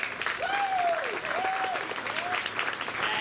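Applause from the crowd at a youth sheep show at a county fair, a steady patter of clapping heard throughout, with a few whistle-like rising and falling tones cutting over it.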